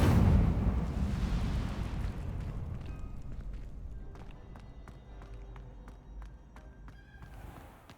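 An Incendio fire spell cast in Hogwarts Legacy bursts with a loud, deep whoosh that fades over several seconds, followed by scattered light clicks and taps.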